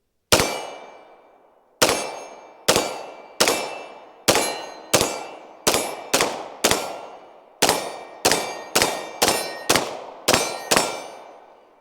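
CZ 75 BD pistol fired at steel targets: about sixteen sharp shots, each followed by a bright ringing clang that fades, spaced roughly a half to one second apart after a pause following the first.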